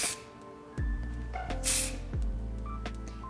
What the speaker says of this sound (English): I just simply take the hair, spray where I need it